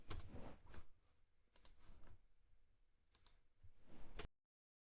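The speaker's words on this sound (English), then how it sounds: "So I'm going to type this." Computer keyboard typing in short clustered bursts of clicks, close and fairly quiet, with pauses between runs of keystrokes and no talking, ending in sudden silence.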